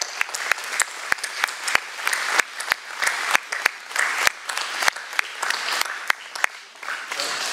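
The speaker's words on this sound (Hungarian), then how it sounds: "A gyerekeknek is egy nagy tapsot adjunk." Sustained audience applause for children at a Hungarian stage event, dense continuous clapping from a sizable crowd with a few sharp nearby claps standing out, loud and even throughout.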